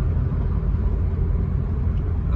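A Fuso truck moving fast on the Trans Sumatra toll road produces a loud, steady low rumble of engine and tyres that stays even throughout, with no talking.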